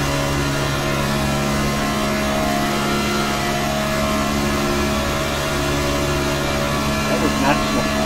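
A race car engine in the iRacing simulator drones at steady high revs throughout, loud and constant with only slight shifts in pitch near the end.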